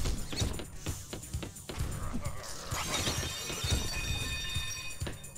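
Video game sound effect from TY the Tasmanian Tiger: a bright, glassy shattering burst followed by sparkling chime-like tones, moderately faint, with no voices.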